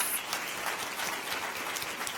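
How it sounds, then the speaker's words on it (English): Steady applause from a conference audience cheering finalist companies at a food startup pitch event, a dense continuous patter of many hands throughout with no talk over it. "Let's get another round of applause for all of our fantastic finalist companies"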